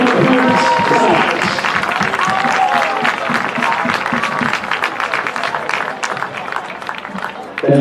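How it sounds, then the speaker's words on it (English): Crowd at a Section 3 Class A football final cheers and claps for the Liverpool Warriors, loud dense applause with scattered shouts and voices mixed in, easing slightly before a final burst. "Fans in the round of applause and congratulations to the Liverpool Warriors on a successful season"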